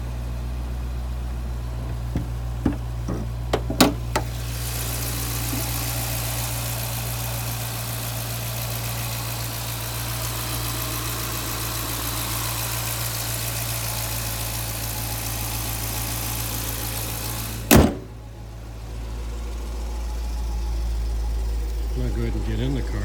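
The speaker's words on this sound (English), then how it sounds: "Go ahead and pop the hood again. That way you can hear the engine." A 2012 Dodge Challenger SRT-8 Yellow Jacket Edition idles with its hood open, a steady, even low rumble with faint ticking. A brief sharp thump comes near the end, and the engine note continues afterward.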